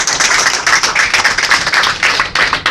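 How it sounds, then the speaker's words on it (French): Congregation in a church clapping in a steady rhythm, close and loud, the quick repeated claps filling the whole stretch with no talking. "Applaudissez à Dieu."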